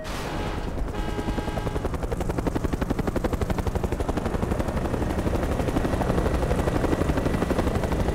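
Helicopter in the video game Mercenaries 2 thumps loudly and close, its rotor chopping in a fast steady pulse that builds slightly over the clip, with a sharp burst near the start.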